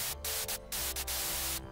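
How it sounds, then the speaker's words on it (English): A white noise sample in a future house track, loud broadband static chopped rhythmically into short bursts with brief gaps, following the melody's rhythm. "Having a sample of white noise is very usable and very versatile."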